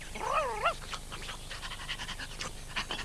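A cartoon dog in a children's animated toyland show gives a rising, wavering whimper, then pants in quick, steady breaths, close and clear.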